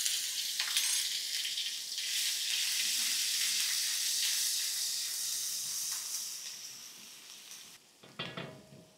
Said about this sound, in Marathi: कढईमध्ये थोडंसं तेल, मोहरी, त्यामध्ये थोडासा लसूण,